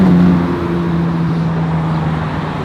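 A Lamborghini Aventador pulls away on a city street in Zurich, its engine giving a loud, close, low steady drone that eases off slightly as it moves.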